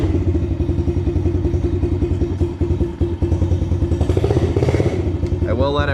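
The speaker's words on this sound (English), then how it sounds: "I will let it run just for a little bit. Make sure it doesn't stall. That did start very nice with the electric start." A 2026 Yamaha 110 motorcycle with electric start runs at a steady, loud idle, its low engine pulse continuous throughout with a few clattering thumps and a rising rev near the end.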